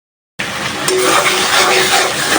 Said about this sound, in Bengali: তরকারিটা সব বেটে সব মশলা দিলে আস্তে আস্তে কষানো হোক